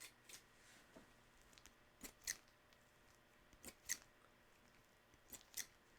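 Sharp scissor snips, a handful of crisp metallic cuts spaced irregularly over a quiet background, close and fairly soft.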